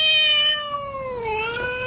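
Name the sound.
very angry cat in a YouTube video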